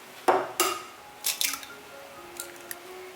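Three eggs cracked against a bowl one after another, each a sharp, close tap, followed by softer clicks of shell and drips into the bowl.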